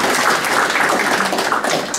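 An audience claps for an award recipient at a Korean literary award ceremony and book launch in Atlanta; a short burst of moderately loud, even applause runs from start to finish with no talking.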